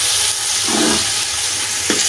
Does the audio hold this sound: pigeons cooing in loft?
no